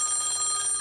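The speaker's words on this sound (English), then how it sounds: "And then the phone rang" A telephone bell rings in a continuous, bright metallic trill, steady and fairly loud throughout the short stretch, with no voices over it.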